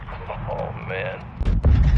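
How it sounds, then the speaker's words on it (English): Gunfire in Call of Duty Modern Warfare 2 near a graveyard and gas station: a loud burst of shots and booms in the last half second, following game voices talking over low rumbling battle noise. "Taking effective fire!"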